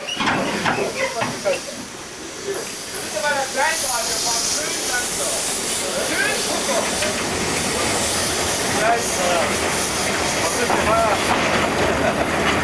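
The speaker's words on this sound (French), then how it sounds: "Le chef de gare donne le départ en même temps pour les 2 trains." Two steam trains depart a station at the same time, with hissing steam and rumbling, clattering wagons, continuous and fairly loud, with voices and chatter in the background, in the Harz.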